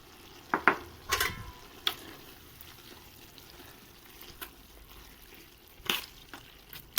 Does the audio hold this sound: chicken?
no